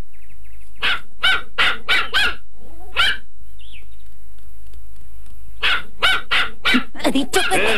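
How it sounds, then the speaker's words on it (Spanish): A cartoon dog barks in two loud bursts, a quick run of five barks, a pause with a faint chirp, then another fast string of barks close up. "¿Quieres dejar de ladrarme?"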